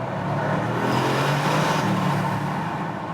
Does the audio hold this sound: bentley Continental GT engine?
yes